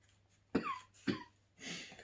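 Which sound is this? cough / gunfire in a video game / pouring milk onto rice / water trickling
cough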